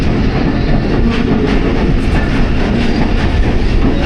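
A train runs through Jamke Chattha station on the Rehman Baba Express line, a loud, steady rumble of wheels and carriages that continues without a break from close by.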